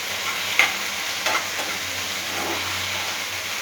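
Long-cut okra deep fries in oil as a low, even sizzle with a couple of soft stirring clinks, steady and fairly quiet throughout.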